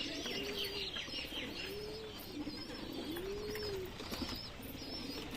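Pigeons coo in a home breeding loft, several rising-falling coos repeating in a loose rhythm, fairly near and soft, with light chirps and background rustle.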